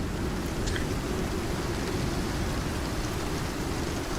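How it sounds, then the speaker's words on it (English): Heavy rain pours down in a storm in the survival video game Icarus, a dense and steady hiss of rainfall that holds at an even level throughout with no voices. "That's a heck of a storm!"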